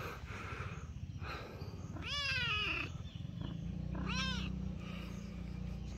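A hungry cat on a farm lets out two long, insistent meows a couple of seconds apart. They come through fairly close and loud over a constant low rumbling background.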